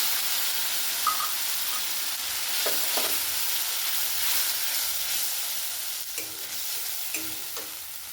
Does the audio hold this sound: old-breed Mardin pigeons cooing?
no